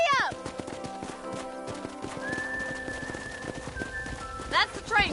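Horse hooves in the Red Dead Redemption video game, steady clip-clop of a ridden horse with whinnies at the start and end, under game music and character voices talking.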